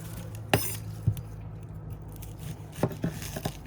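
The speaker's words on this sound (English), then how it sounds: "we're going to slice these onions up real thin" A knife slices a white onion thin on a cutting board, giving a handful of sharp, irregular taps against a quiet background.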